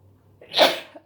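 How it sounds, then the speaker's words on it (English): A single loud, close sneeze bursts out after a second of near silence, with a short breathy tail, while someone works on handmade flower paper with gerbera and carnation petals. "I'm going to sneeze here"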